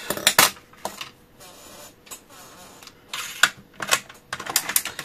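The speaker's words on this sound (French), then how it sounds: "Là, je suis un peu déçu de ce massicot." A paper guillotine trimmer cuts sheets of paper, giving several sharp, loud clacks and slicing swishes in uneven bursts separated by brief quiet handling, with no speech.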